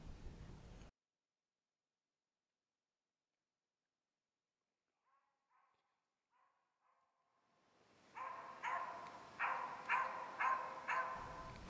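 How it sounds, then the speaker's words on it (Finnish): A Finnish bird-hunting dog barks at a bird in the Sompio wilderness, a series of regular barks at moderate distance after a long silence, with no speech. "Haukkuvan koiran tehtävänä on etsiä lintu maasta tai puusta ja haukulla lumota lintupaikoilleen."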